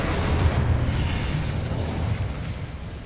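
A fire spell, Incendio, cast in the Hogwarts Legacy video game: a dense, roaring burst of flame and rumbling low-end blast that holds steady for about three seconds, loud and close, with no voices.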